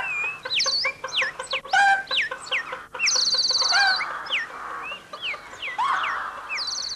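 Chickens cluck and a rooster calls in a busy, comic flurry of bird sounds, several bursts in quick succession standing alone without talk.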